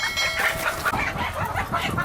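Laying hens on a poultry farm in Pakistan cluck continuously in a dense chorus, close by, with overlapping calls and no talking.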